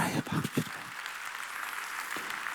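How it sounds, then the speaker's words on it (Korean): A church congregation at a Sunday worship service claps together, a few loud near claps at first settling into a steadier ongoing round of applause, fairly soft overall. "이 경을 믿으면 박수치라 해. 박수치라."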